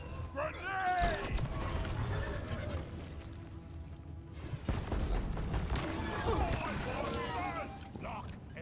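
A video game firefight with dense gunfire and heavy booms rolling on for several seconds, loud and continuous, with a player talking over the action.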